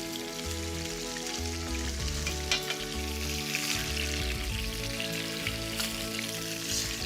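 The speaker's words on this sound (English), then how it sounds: "looking at the salmon as it cooks" Salmon frying in a pan, giving a dense, continuous crackling sizzle at an even, moderate level over a layered steady hum, with no voices.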